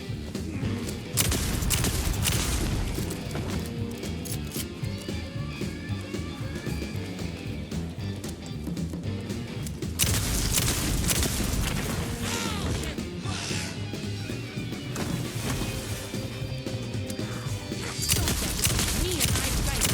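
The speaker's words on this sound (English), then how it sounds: "I think I'm just gonna stick to using that shotgun" A shotgun fires in the video game Alan Wake, with loud, crashing blasts at intervals over a busy, clattering action soundscape.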